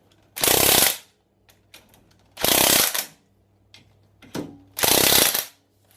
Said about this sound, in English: Just for fun, I'm going to use my impact gun.